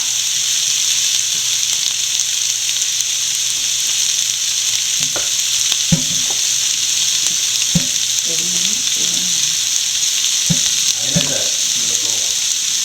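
Soya chunks stir-fry with fennel powder in a pan, giving a loud continuous sizzle and hiss with scattered scraping stirs and clanks of the spatula throughout.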